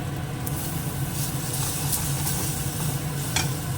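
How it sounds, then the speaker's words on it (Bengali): Spices are stirred in a frying pan under a low, steady rumble and soft sizzle, with a few light scrapes of the spoon against the metal. "একটু নাড়িয়ে নিই মিশে যাক এটা"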